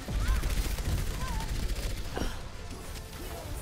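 Sniper shots from Widowmaker in the video game Overwatch, a few sharp reports over a dense, noisy game mix with faint voices underneath.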